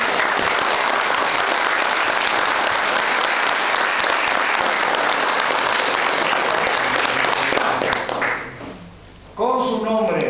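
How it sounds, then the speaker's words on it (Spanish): An audience gives loud, sustained applause for independent citizen candidates at a community gathering, the clapping holding evenly for about eight seconds before dropping off, followed by a speaking voice. "con un fuerte aplauso para ustedes"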